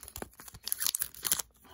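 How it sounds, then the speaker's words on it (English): Scissors cut open a Pokémon Celebrations card pack, giving short tearing and crinkling bursts of foil wrapper close by, two main clusters of snipping and rustling in under two seconds with no talk. "This time I brought scissors."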